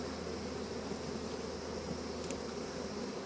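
Honeybees humming at a small backyard beehive in winter, a steady, close, even buzz that holds without a break.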